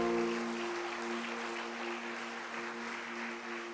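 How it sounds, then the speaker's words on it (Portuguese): Steady crowd applause at a church service, sustained for several seconds over a held organ or keyboard chord. "Dê um aplauso ao Espírito Santo."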